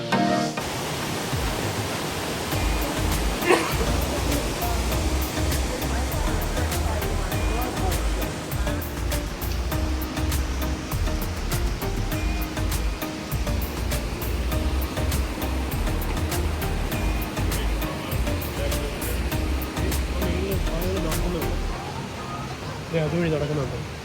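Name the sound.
Rainbow Falls waterfall at Watkins Glen State Park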